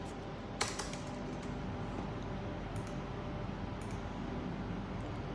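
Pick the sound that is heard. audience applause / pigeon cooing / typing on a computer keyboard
typing on a computer keyboard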